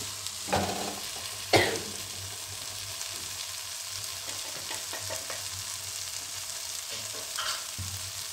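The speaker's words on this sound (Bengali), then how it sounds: "আমি এই মশলা ধোয়ার জলটা দিচ্ছি।" Spice-rinse water poured into sizzling rajma masala in a pan, giving a couple of sharp splashing bursts and then a steady frying hiss with light stirring scrapes.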